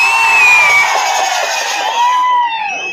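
A large crowd at an AIADMK rally in Pudukkottai welcomes the party's general secretary Edappadi with loud sustained cheering and shrill whistling, close and dense, without speech.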